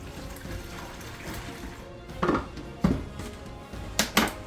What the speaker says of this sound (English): pour it both into these 2 jugs and then fill them up with water